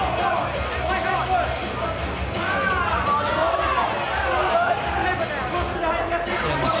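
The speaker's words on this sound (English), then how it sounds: "You can hear the crowd getting behind Ravenhill." A crowd at a Stand and Bang Hardcore fight noisily cheers and shouts in support of a fighter, a dense continuous roar of voices with rising calls, close and busy throughout.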